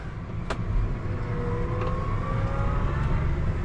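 Cab interior of a 2024 New Holland T7.290 HD tractor driving forward on cruise control, a steady low engine drone with a faint rising whine and a couple of brief clicks.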